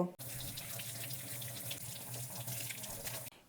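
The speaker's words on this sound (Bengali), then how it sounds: "প্রথমে আমি এই আমলকি আর এই কারি পাতাটা ভালো করে ধুয়ে নেব" Tap water runs steadily into a sink while amla and curry leaves are rinsed, a continuous close splashing rush that starts and stops abruptly.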